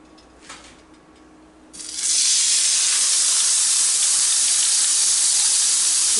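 Butterflied chicken hits a hot grill pan and bursts into loud, steady sizzling after a quiet moment, a broad hiss that holds strongly to the end with no talk.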